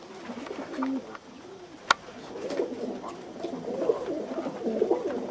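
Pigeons coo repeatedly in soft, rolling calls, with one sharp click partway through and faint background ambience.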